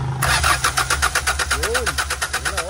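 A Hyundai Starex GRX van that had trouble starting cranks in a fast, regular rhythm close by, the engine turning over with a low steady hum while someone shouts over it.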